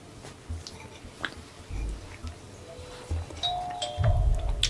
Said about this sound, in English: Oh, it's a doorbell!